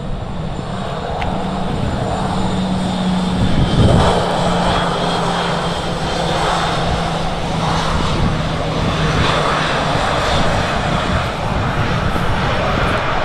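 Aircraft engine of a plane taxiing toward the start of the runway at Manchester Airport, a steady broadband roar with a low engine hum, continuous and moderately loud throughout with no talk.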